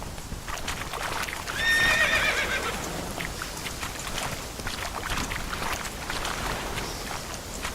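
Roach, a horse in The Witcher 3, gives a loud whinny over the rapid clip-clop of galloping hooves, with the hoofbeats continuing steadily after the neigh fades.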